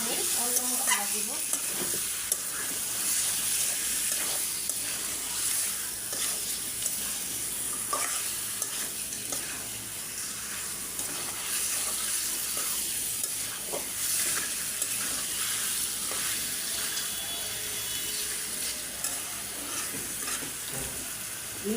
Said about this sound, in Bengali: মুরগিটা আমি ভালো করে আগে পেঁয়াজের সাথে কষায়া আমি অন্য মশলা দিব।